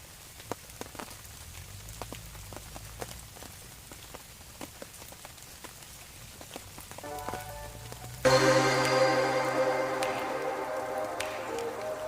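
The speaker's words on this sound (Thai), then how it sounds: "น้ำฝนเริ่มแรงขึ้นแล้ว" Rain falls during a fishing trip with a homemade bamboo rod: scattered drips patter on a surface at first, then a sudden loud, dense downpour takes over and holds steady.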